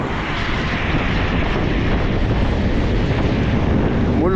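Strong wind buffeting the microphone of a cyclist riding a road in Algeria, a loud continuous low roar and rumble with no let-up, steady throughout.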